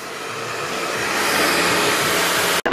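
A salon hair dryer blows hair with a loud, close, continuous rushing roar that holds steady before cutting out abruptly near the end.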